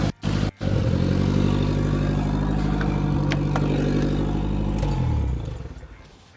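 A Nissan S12 200SX engine keeps idling at a steady, rough, close rumble, with a couple of brief dropouts at the start, then winds down and dies near the end.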